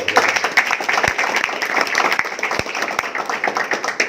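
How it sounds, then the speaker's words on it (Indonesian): A seated audience at an Indonesian community meetup claps steadily and fairly loudly for about four seconds, a dense wash of hands with a few sharper individual claps standing out. "Tepuk tangan."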